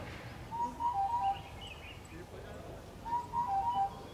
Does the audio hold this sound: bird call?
yes